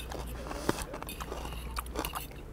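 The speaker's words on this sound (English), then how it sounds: "I love the crunch of the radishes." Crunchy radishes bitten into at a dinner table, with one sharp, close crunch standing out against quiet background noise before softer chewing.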